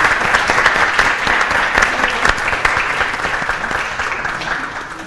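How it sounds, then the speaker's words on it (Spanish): An audience at a panel on inclusion of migrant children breaks into loud, sustained applause, a dense close wash of clapping that holds steady for several seconds. "darles un aplauso a todos ustedes porque creo que lo han hecho increíble"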